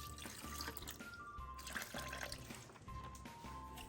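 Water poured into a banana ice cream mix, a quiet running and splashing trickle with small drips, faint and continuous for several seconds with no talking.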